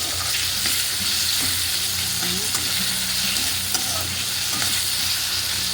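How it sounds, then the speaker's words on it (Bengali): Capsicum frying in oil in a pan gives a steady loud sizzle, with occasional scrapes and clicks as it is stirred, close up and without talking. "তারপরে এগুলোকে তেল দিয়ে ভাজবো"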